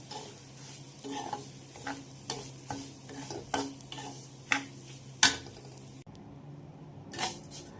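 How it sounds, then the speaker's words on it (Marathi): Dry semolina is stirred and scraped in a pan of ghee with a soft sizzle, the spoon strokes coming in a steady rhythm of repeated taps. "आता त्याच तुपामध्ये मी लगेच रवा भाजून घेते"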